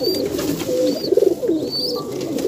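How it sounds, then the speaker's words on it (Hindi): Pigeons coo softly in repeated low, throaty calls, with a brief rapid burst of cooing in the middle and faint chirps in the background. "सभी कबूतर हैं जी।"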